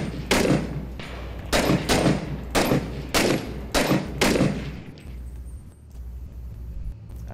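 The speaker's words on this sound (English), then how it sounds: "Alright, mortars are starting." Mortar fire in the Six Days in Fallujah video game: about six heavy, booming blasts land in a steady rhythm less than a second apart, then give way to a quieter rumbling tail.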